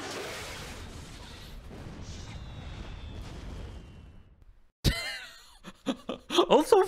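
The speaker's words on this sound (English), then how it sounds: "Also fireworks, damn it." Fireworks go off in the horror RPG Parasite Eve. A low wash of rumbling noise cuts out into a short silence, then sharp bursts and crackling pops follow in an irregular cluster, growing louder toward the end.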